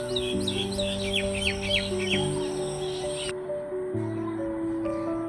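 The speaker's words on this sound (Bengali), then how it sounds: "আপনারাও একটু শুনুন, এখানকার পাখির ডাক" Birds chirping and calling in a quiet village near Dhaka, bright trilling tweets in a quick series early on, then softer scattered calls over a steady low hum and faint background murmur.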